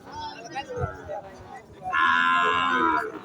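Amid people chatting at a busy cattle market, a Sahiwal bull lets out one loud, sustained moo close by.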